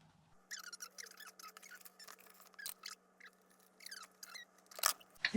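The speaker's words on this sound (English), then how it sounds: "If you can hear scurrying noises in the background," Guinea pigs scurry and rustle in a room with faint, scattered scratching, small squeaks and light scuffling, quiet and close, over a low steady hum.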